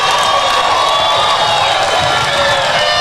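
A home crowd at a QBL basketball game between the Toowoomba Mountaineers and the Gold Coast Rollers cheers and whoops loudly in a continuous roar, with some clapping and high shouts mixed in.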